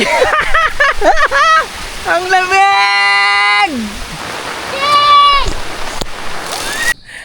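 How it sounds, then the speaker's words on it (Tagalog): Steady heavy rain hisses throughout while excited voices shout, squeal and talk over it, fairly close and loud. "Ang lakas ng ulan, guys."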